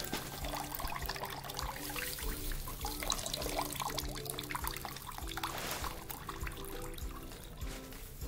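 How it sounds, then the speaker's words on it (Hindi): Juice trickling and dribbling as it is strained through a cloth, a faint, continuous watery pour heard alone. "क्लॉथ में डाल के ऐसा पूरा छानना है इसको."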